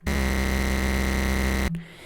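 A steady, buzzy synthesizer tone with a low hum, held evenly and fairly loud for most of the clip before cutting off abruptly.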